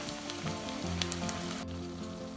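Ground tomato-onion paste sizzling in a pan as a kuzhambu gravy cooks, a soft continuous hiss with a faint steady hum and a couple of small crackles.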